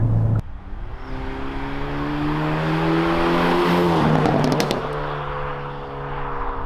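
A 2022 Hyundai Elantra N engine revving hard toward the red line: a loud, close, rising drone that climbs steadily through the gears with brief dips at the shifts, with no talk.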